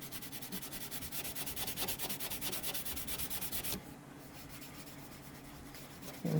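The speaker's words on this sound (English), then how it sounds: "I'm rubbing a little bit of True Oil into that area there" A cloth rubbing True Oil into the repaired wooden fingerboard area of a 1954 Martin guitar, a soft close scrubbing in quick back-and-forth strokes that eases off into lighter rubbing.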